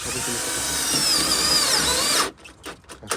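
A power drill whines steadily at high speed for a couple of seconds drilling the body of a Mercedes W123 under restoration, then stops, followed by a few short clattering knocks nearby.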